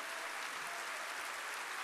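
Church congregation applauding together during an evening worship service, a steady dense wash of clapping held at an even level throughout, with no voices rising above it.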